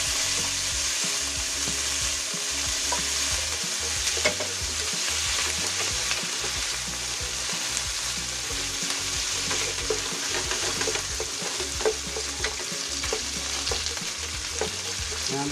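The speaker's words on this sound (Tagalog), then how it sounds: "Siya pong ma-fried muna ang ating pork." Pork sizzles and crackles steadily as it fries in a hot pan, with occasional stirring clatter, close up and without voices.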